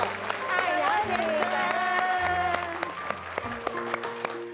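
An audience and volunteers at a recycling station in Zhushan clap together in a steady, crowded patter that runs throughout, with music and voices layered over it.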